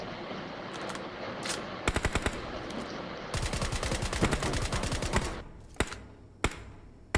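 Gunfire in PUBG Mobile: single shots, then short bursts and a long rapid automatic volley, with a few isolated sharp shots trailing off at the end, fairly loud and close.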